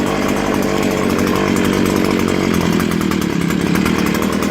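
A Stihl HS81T hedge trimmer's two-stroke engine runs steadily while warming up, a loud, buzzing drone with a rapid rattling pulse that holds nearly constant throughout, close by and with no voices.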